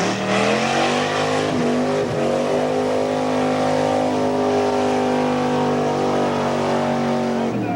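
1977 Ford truck engine at a Plymouth mud bog, roaring loud and continuous at high revs with pitch dipping and climbing as the wheels spin, sustained for several seconds without talk.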